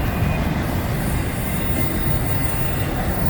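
An intermodal freight train rolls past with a steady, heavy rumble and rattling of railcars, continuous and fairly close throughout.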